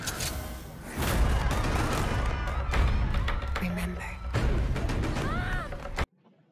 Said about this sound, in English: gunshots being fired before.